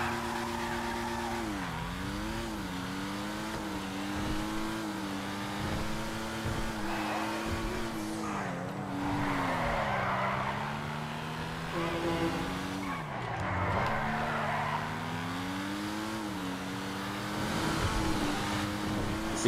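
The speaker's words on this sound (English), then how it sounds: "Let's take this on a little test drive." A sports car on a test drive in GTA 5 Online sends out a steady, loud engine drone whose pitch rises and falls as it accelerates and shifts. Tires squeal at moments, and the car sits close and continuous for the whole stretch.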